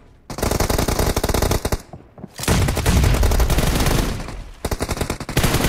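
Automatic MK14 rifle fire in the mobile shooter game BGMI rattles out in long, loud, rapid bursts, broken by two short pauses.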